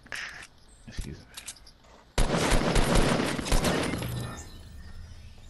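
Gunfire bursts in a Fortnite squad match, a few scattered shots giving way to a loud, sustained volley of rapid fire, with players talking over it.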